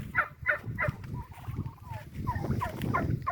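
Domestic turkeys gobbling on a farm, a series of repeated rapid gobbles and warbling calls from several birds at close range, continuing throughout with no talk.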